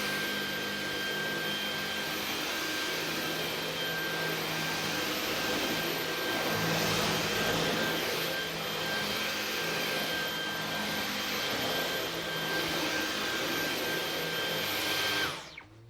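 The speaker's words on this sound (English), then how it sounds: "I'm going to vacuum a bit of carpet powder up here now" A Dyson V11 cordless vacuum running at full speed sucks up carpet powder, a steady loud whine with a high tone that holds evenly for about fifteen seconds before cutting off at the end.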